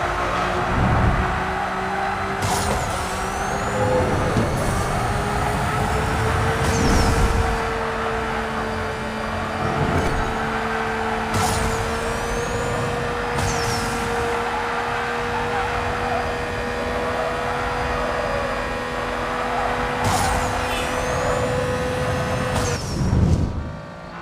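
A car drifting in the racing game Need for Speed No Limits: a sustained engine whine and tire screech hold steady for the whole stretch, broken by recurring bursts of noise.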